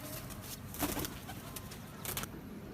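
Pigeons coo softly against a steady background hiss, with a couple of brief fluttery bursts that could be wingbeats.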